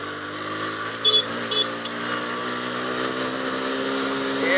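A Yamaha FZS 150 motorcycle hums along a road in Pokhara with a steady, moderately loud engine drone, joined by a couple of brief higher blips early on and a slight rise at the end.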